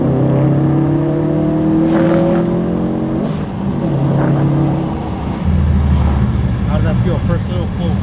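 A Subaru STI engine pulls hard under acceleration from inside the car, its tone climbing and dropping through the gears. A steady droning roar is heard beneath occasional voices.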